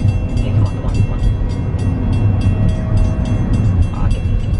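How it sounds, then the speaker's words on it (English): A passing train rumbles loudly and steadily close by, with continuous heavy rolling noise and rattling wagons throughout, and a faint horn tone. "Damn train. So annoying."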